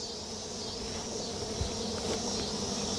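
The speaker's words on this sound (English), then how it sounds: "trying to not crush these bees that are defending this joint here" Honeybees buzz steadily and close during a beehive inspection, a dense continuous drone of many defending bees with faint rustling under it.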